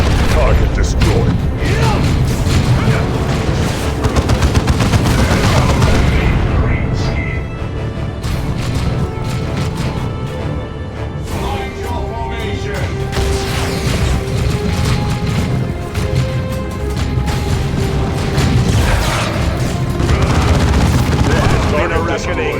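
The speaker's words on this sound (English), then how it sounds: "All guns, open fire!" Loud, continuous battle din from Warhammer 40,000: Dawn of War 2, with booming explosions and bursts of gunfire layered over game voices and a dense background score.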